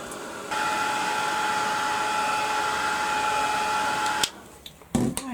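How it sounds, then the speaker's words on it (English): A heat gun blasts steadily for about four seconds to dry baby pink paint on a mixed media trinket box. It sounds like a loud, even whirring rush up close, then cuts off into a few small handling knocks. "So I'm going to give that a blast with the heat gun, get it all dried."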